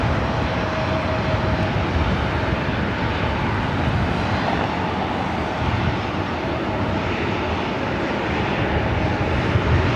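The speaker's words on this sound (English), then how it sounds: "Got this Delta A319 arriving here on the north side." A Delta Airbus A319 jet arrives at LAX on the north side, giving a steady, broadband engine rumble and rush that stays fairly constant, moderately loud, with no talking.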